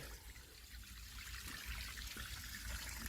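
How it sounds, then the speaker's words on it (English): Water from a hose pipe runs over a fake rock waterfall in a steady, soft, continuous trickle with a constant low wash. "I haven't connected the pipes yet, so just testing it with this hose pipe."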